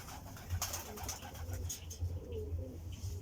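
Racing pigeons at a club loft in Tagudin, Ilocos coo in soft, low, repeated pulses, with a few sharper chirps and flutters over steady background noise.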